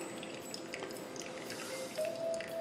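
A thin stream of hot water pours from a gooseneck kettle, a quiet, steady trickle with faint splashes and drips.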